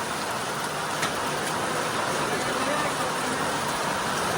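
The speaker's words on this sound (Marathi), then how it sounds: "पाऊस चालूच आहे" Steady, dense rain hisses continuously, with occasional faint drips and a distant vehicle sound beneath the downpour.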